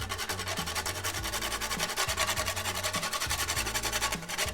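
Nutmeg is rubbed on a grater for varenyky dough, a steady rapid rasping of quick repeated strokes, close and continuous with a slight fade at the end.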